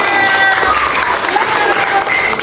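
Schoolchildren in a classroom clap for a classmate after a science presentation, loud continuous applause close by with a hum of crowd noise.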